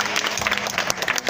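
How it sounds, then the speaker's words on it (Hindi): An audience at a school science fair claps in a brief burst of dense, steady applause, close and fairly loud. "जोरदार ताली बजाइए"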